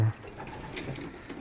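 Pigeons in a loft after the first young hatched, giving soft low cooing close by over a faint rustling background.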